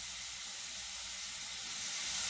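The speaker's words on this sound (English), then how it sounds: "I've got the onions and tomatoes on the stove, and I'm just putting a little bit of vegetable oil in here to kind of brown the onions" Onions and tomatoes fry in vegetable oil on a stovetop, giving a steady, fairly loud broadband sizzle with no break and no talk.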